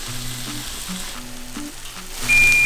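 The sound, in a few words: spinach feta turkey patties frying in a pan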